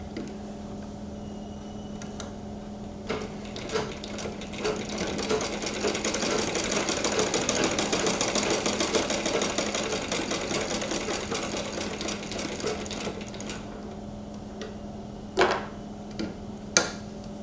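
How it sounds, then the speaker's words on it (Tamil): A sewing machine stitches two fabric pieces together along the edge, its close, steady whirring run building in the middle and easing off, with a few sharp knocks near the end. "இந்த ரெண்டு பீசஸும் சேர்த்து ஒரு ஸ்டிச்சு இந்த ஓரத்தில் ஒன்று போட்டுருவோம்"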